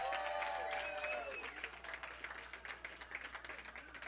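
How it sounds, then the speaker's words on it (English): Applause at a hybrid charity gala auction after a winning bid, moderate clapping from a room audience with some voices and whistles early, thinning into scattered claps. "Give him a big round of applause."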